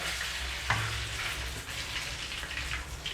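Janthikalu, crispy rice flour murukku, frying in hot oil: a steady bubbling sizzle with soft crackles and a brief clink early on, close and moderately quiet, with no voices.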